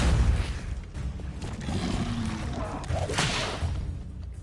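A whooshing, booming burst of the Repulso spell in Hogwarts Legacy, with a rushing swell partway through and a dull low rumble beneath, brief and moderately quiet.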